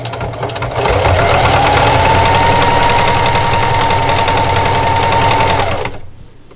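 Sewing machine running steadily as it stitches a grippy jar opener, a continuous close mechanical whir of about five seconds that starts and stops cleanly, with no talking.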